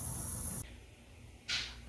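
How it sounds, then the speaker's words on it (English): Rust-Oleum Black Knight Metallic spray paint hisses from an aerosol can onto Mikuni carburetor parts from a Yamaha Warrior ATV, two short bursts separated by a pause, close and fairly quiet. "I'm going to spray these and give these a nice finish before I put the carb back together."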